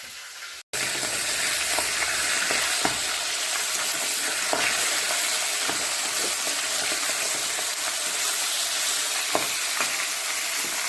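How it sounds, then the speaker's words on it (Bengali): Pangas fish sizzling steadily in hot oil in a frying pan, a dense, continuous crackle and hiss with small pops, close and loud throughout after a brief silent start. "মাছটা দিয়ে ভাজা হচ্ছে"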